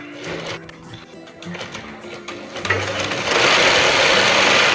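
A sewing machine stitches a Chinese collar, running in short bursts at first and then in a loud, steady whirring run, close up with occasional talking.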